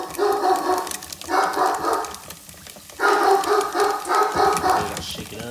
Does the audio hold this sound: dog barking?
yes